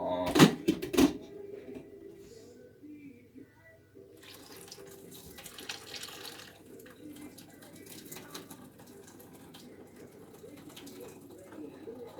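Water is drained from a cooking pan in a home kitchen, poured off under a lid with an oven glove; a loud splash at the start gives way to a steady, moderate running trickle with light background noise.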